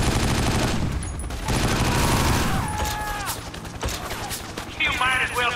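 Gunfire in the video game 50 Cent: Blood on the Sand, loud rapid bursts and single shots mixed with game effects and a high whining tone, while players talk over the action.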